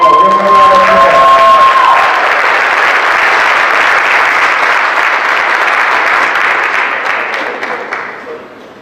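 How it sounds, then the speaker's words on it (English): A conference crowd at a fathers' event claps loudly and steadily for young people called up on stage, dense close applause with a few faint voices at the start, tapering off over the last seconds. "Come on, give them a round of applause."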